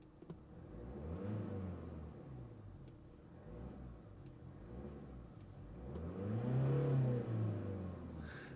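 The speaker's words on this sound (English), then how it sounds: "It's a diesel engine, diesel noises." A 2024 Mercedes-Benz GLA diesel engine idling and revving in a low, steady rumble, swelling twice into louder throaty surges, close by with no talking.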